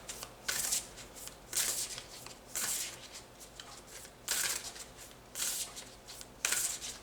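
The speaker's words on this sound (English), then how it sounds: "So let's get 1 more card for the Divine Feminine Oracle, please." Oracle cards from a Divine Feminine deck being shuffled by hand in repeated crisp riffling bursts, about six spaced flurries of papery slapping close to the mic with quiet pauses between.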